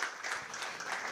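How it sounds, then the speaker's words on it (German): An audience at a comedy show applauds the host, a dense, even wash of clapping that holds steady for the whole stretch with no voices over it. "Einen Applaus für den Moderator."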